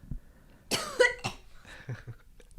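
A few sharp, close coughs in a short burst, followed by a softer throat sound, in an otherwise quiet room.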